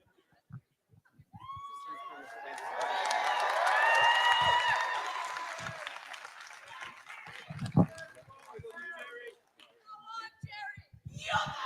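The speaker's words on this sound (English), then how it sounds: "Big round of applause for Jerry" A crowd at Dublin Comic Con cheers and applauds, with whoops and shouts building to a loud peak, then fading into scattered claps and voices. Talk and sharp noises are mixed in near the end.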